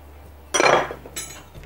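A spoon clinks sharply against a bowl as yeast goes into warm milk, one bright ringing knock followed by a lighter second tap, close and alone.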